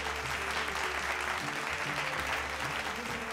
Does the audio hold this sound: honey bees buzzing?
no